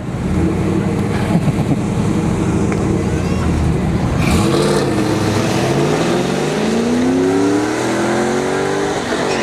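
A Pontiac Firebird launches down a dragstrip during test-and-tune runs, the engine rising through rising-pitch sweeps and gear changes as it pulls away, heard at a distance beneath steady crowd and background noise.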